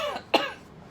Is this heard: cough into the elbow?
yes